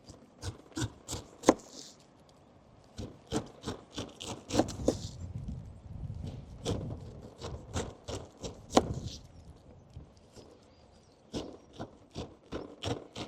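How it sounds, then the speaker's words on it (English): A sharp knife slicing the rind off a pineapple on a board, giving a series of close, crisp cutting and rasping strokes in an irregular rhythm, with short pauses between bursts. "So nice sharp knife, we want to keep on the spine and then just working our way down the outside, not going too far into the flesh"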